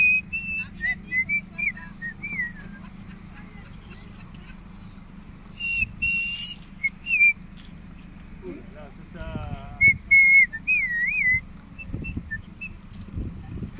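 Thin, warbling whistles rise and fall intermittently near the Morlaix river during a boat regatta, set against a steady low engine or water hum, with people talking in between.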